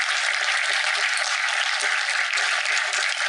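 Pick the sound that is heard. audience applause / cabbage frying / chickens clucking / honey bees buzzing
audience applause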